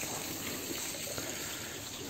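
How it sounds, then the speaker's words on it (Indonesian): Water from an artificial waterfall pours into a pond at Parang Hill, a steady, broad rushing gush that stays constant and close, with no talking. "ini mungkin dibuat air terjun buatan"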